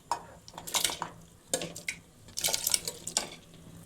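Tomatoes dropping into a cooking pot of water, prepared for a Kannada-style tomato saaru, give a series of five or six quick clattering splashes and knocks with short pauses between them, close by and moderately loud.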